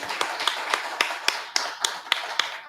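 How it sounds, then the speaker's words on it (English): Scattered, slow hand claps ring out from an audience after a speaker named Doug finishes, roughly a dozen distinct sharp claps spaced unevenly, thin and moderately close rather than a full ovation. "Give Doug a big round of applause."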